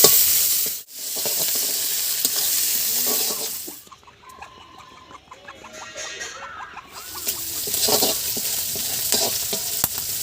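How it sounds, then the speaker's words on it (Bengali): Prawns sizzling and spitting in hot oil with turmeric and salt, a loud crackling fry that drops to quieter bubbling while being stirred, then rises again to a bright, busy sizzle. "এবার চিংড়ি মাছটাকে একটু ভালো করে ভেজে নেব।"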